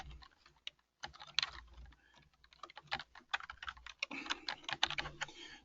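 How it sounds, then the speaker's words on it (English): Keystrokes tapped on a computer keyboard while entering text in a web editor, arriving in irregular bursts of close, crisp clicks with a brief pause near the start and a denser flurry toward the end. "excuse my typing"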